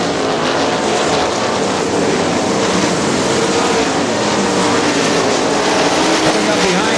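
410 sprint cars race on the dirt track at Butler Battlegrounds in Quincy, Michigan, as the leaders close in on slower traffic. A dense, loud engine roar holds steady and unbroken from start to finish.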